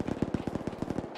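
Automatic gunfire in the ARMA 3 video game rattles out in a rapid, even burst of about ten shots. It sounds somewhat muffled and moderately distant.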